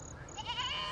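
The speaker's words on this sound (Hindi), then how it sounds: "ये मुदस्सर भाई की बकरी" A goat on a farm gives one short, faint bleat over a quiet background.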